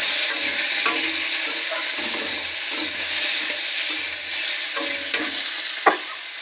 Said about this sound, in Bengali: এই যে কড়াইতে শুকনো লঙ্কা কাঁচা লঙ্কা জিরে তেলে দিয়ে দিয়েছি। এই যে কচু ঢেলে দিয়েছি।